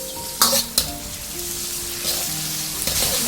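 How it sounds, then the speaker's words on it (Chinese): A sauce of oyster sauce, cooking wine and steamed-fish soy sauce stir-fries in a hot wok, with a steady loud sizzle and sharp metallic spatula scrapes near the start. "炒一下，把酱汁先炒香。"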